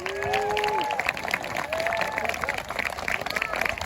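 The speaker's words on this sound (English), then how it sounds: "can we have a huge round of applause for the royal party" Crowd applause and cheering for the royal party at a battle reenactment, a steady wash of clapping from a large outdoor audience with voices and whistles mixed in, held at an even level throughout.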